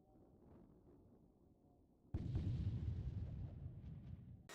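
Bombs strike a target in the Falcon BMS flight simulator: a sudden heavy blast after a quiet cockpit hum, followed by a rolling, rumbling boom that slowly fades.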